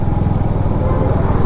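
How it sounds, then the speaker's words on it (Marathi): A motorcycle at a village feast chugs at low speed with a loud, steady pulsing engine note as it is ridden into parking, close and continuous. "चला आपण आता आपली बाईक पार्किंगमध्ये टाकू"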